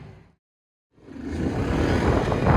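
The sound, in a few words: car driving with hard braking and sharp turns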